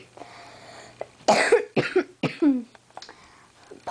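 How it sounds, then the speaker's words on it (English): A cluster of three or four harsh, close coughs from a person, bursting one after another over a quiet room background. "Pardon my cough."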